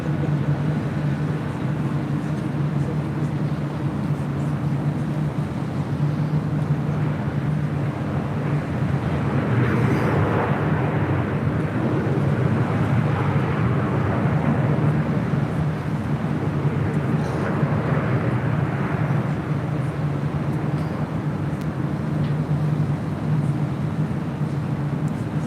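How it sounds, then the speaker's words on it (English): An EVA Air Boeing 777-300ER airliner from Taipei arriving at LAX, a steady broadband jet roar that swells and eases over the stretch, heard from a distance with a constant low hum beneath. "Next arrival here on the north side is Eva Air Flight 16 coming in from Taipei"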